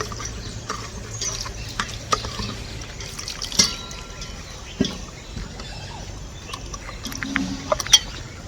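Tamarind being washed by hand in water for a village-style bitter gourd fry, with soft sloshing, trickling and dripping sounds, occasional small clinks, close and fairly quiet without talk.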